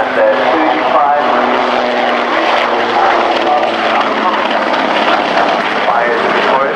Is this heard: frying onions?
no